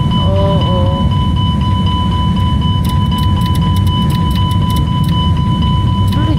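Steady broadband engine rumble of a plane rolling out for takeoff in a flight simulator game, continuous and fairly loud, with a few short electronic beeps and warning tones over it.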